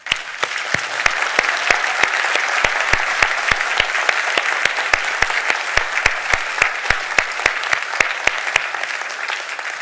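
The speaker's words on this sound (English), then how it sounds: "we give our nominees, all the nominees, a big round of applause" An audience gives award nominees a big round of applause at a ceremony: dense, sustained clapping from many hands, steady and fairly loud throughout, with no talking.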